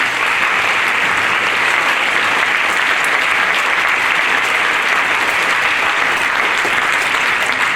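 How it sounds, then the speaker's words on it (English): Dense, steady applause from a concert audience at Lake Hamilton honoring school administrators, a continuous wash of many hands clapping with no pauses, loud and close throughout. "Can we give them a round of applause, please?"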